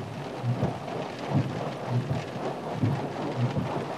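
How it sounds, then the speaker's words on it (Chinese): Heavy rain pours steadily, a dense close hiss, while low thunder rumbles roll in several times beneath it. "这大雨天的"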